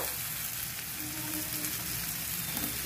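Mashed boiled potatoes sauté in a pan, producing a steady, fairly loud frying sizzle with no talk over it.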